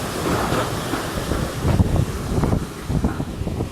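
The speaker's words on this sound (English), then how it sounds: "the wind is definitely trying to lift that thing up" Hurricane Maria in Puerto Rico: strong wind gusting hard against the microphone, a rough roaring buffet with heavy low thumps that swell and ease in bursts, loud and close with no voices.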